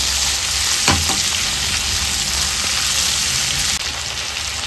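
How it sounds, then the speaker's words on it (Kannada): Masala spices fry in oil in a pan for an egg curry, giving a steady, loud, dense sizzle with faint stirring clicks throughout and no talking. "ಮಸಾಲೆ ಎಲ್ಲ ಚೆನ್ನಾಗಿ ಫ್ರೈ ಆಗಿದೆ"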